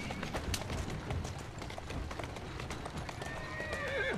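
Steady clip-clopping hooves on a continuous run in Assassin's Creed Syndicate, with a horse whinnying near the end over a busy background.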